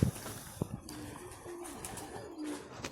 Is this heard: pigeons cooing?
yes